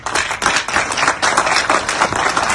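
Audience applause at a French political gathering, steady dense clapping throughout, close and loud with no voices over it.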